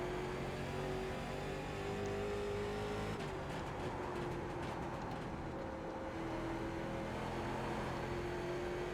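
A NASCAR late model race car engine in the iRacing simulator drones steadily at high revs, with a brief shift in pitch partway through and no talk.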